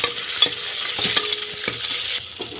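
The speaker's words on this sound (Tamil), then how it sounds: "நறுக்கி வச்சுருக்க வெங்காயம், காஞ்ச மிளகாவை சேர்த்து கொஞ்சம் வதக்கிக்கலாம்" Chopped onions and dried chillies for sambar sizzle steadily in hot oil, a spoon stirring and scraping the pan in periodic knocks over the constant frying hiss, close and without speech.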